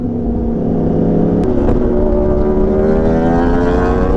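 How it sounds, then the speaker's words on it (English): A small dirt bike engine revs loudly and close by, holding a steady buzzing drone that climbs slightly in pitch partway through, with no talk over it. "It's a little dirt bike, bro."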